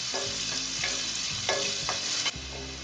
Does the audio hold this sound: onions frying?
yes